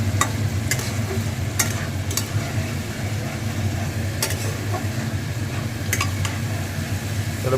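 Potato and papaya pieces are sautéed in a pan with ginger, chilli paste, turmeric and cumin, making a continuous low sizzle. Several sharp scraping stirs break through it, and there is no talk.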